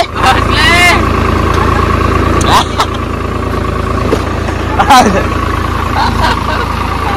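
A Swaraj 735 tractor stuck in a field runs with a steady, rumbling mid-pitched engine drone throughout, while several people shout and talk loudly over it.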